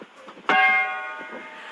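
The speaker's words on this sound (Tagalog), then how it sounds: "So let this gong remind us the sound of happiness. Let us beat this gong" A gong is beaten at a Cordillera pageant talent performance, one sharp strike that rings on as a bright, sustained metallic tone and slowly fades, with faint room noise before it.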